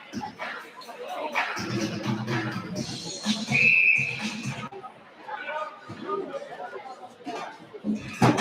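A referee's whistle during a Bantam AA youth ice hockey game, one sharp shrill blast rising above arena chatter and crowd murmur, with voices talking across the rink.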